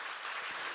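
Applause from a church seminar audience, a steady close patter of many hands clapping for under a second with no voices.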